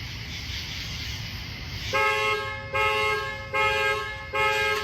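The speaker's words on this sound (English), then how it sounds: "the fucking car is going off, bro" A car alarm sounds against a low background rumble, giving four loud, evenly spaced honking blasts that each hold about half a second.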